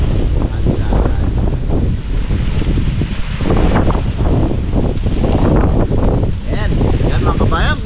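Strong outdoor wind buffets the microphone in steady gusts with rustling, loud and close throughout, while people talk in the background.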